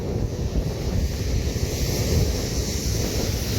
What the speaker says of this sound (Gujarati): ઉફાળા મારે ઉફાળા પાણી.